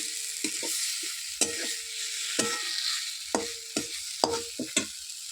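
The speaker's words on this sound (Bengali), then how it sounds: "মাংসটা দিয়ে দিলাম। এবার ভালো করে আধা ঘন্টা কষবো।" Pigeon meat fries in an oily spice paste, with a steady bright sizzle broken by repeated scraping strokes of a spoon stirring the pan, close and alone without talk.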